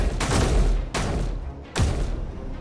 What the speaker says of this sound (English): Where's that gunfire?